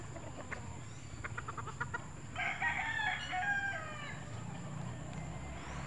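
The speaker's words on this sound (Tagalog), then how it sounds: "Ang daming manok." A rooster crows clearly in the middle, a rising then sustained call, with fainter clucking from a backyard flock of chickens and a low background hum around it.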